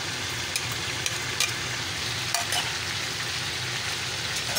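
Onions and chicken wings frying in a pan for a chicken and potato tray dish, a steady loud sizzle with occasional sharper crackles and stirring scrapes.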